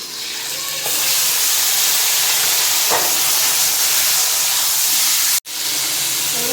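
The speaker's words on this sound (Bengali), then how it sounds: "ওই কড়াইটাই কচু শাকের জন্য ফোড়ন দিয়ে দেবো।" Dry red chillies and five-spice tempering hit hot oil in a kadai, used for taro greens with hilsa fish head. A loud, close, continuous sizzle swells up after a moment and holds steady, briefly cutting out near the end.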